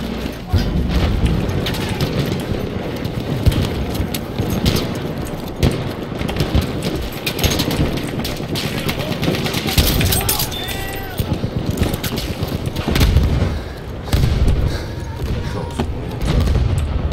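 In Battlefield 1 play, artillery booms and bursts of gunfire pile up in a dense, loud battle din that runs without pause, with someone talking over parts of it.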